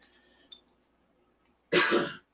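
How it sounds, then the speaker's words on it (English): Two faint short throat sounds, then a single loud, harsh cough lasting about half a second. "one of those nights where I just cannot clear my throat"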